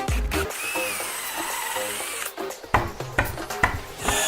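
A power drill whirs steadily, pre-drilling into a wooden picnic table leg, then several short bursts of drilling and clicks follow, close up and with no talking.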